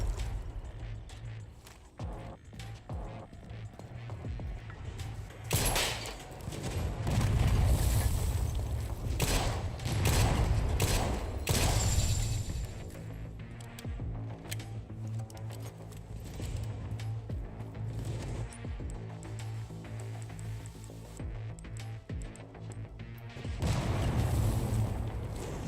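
Mortar fire in a video game: rumbling booms and crackling blasts rolling in waves, dense and loud in the middle stretch, then easing before another burst near the end.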